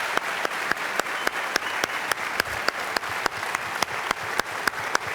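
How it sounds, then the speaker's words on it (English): An audience at the Reagan Museum applauds a visiting Secretary of State, with steady, evenly paced clapping that holds at a strong level throughout, no voices on top. "one round of applause for a wonderful Secretary of State"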